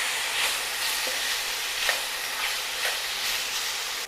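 Potatoes frying in a pan while being stirred, a moderate steady hiss of sizzling oil with soft periodic scrapes about every second, no speech.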